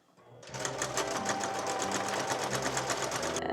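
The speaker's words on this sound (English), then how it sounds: "So now I'm just going to sew this together" A sewing machine stitches dress fabric together, starting up after a brief quiet moment and then running in a fast, steady rhythmic chatter at close range without pause.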